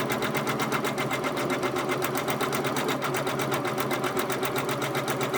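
A Janome MB4 multi-needle embroidery machine stitching an edge-to-edge quilt design, running with a steady, rapid mechanical rhythm that stays close and even throughout.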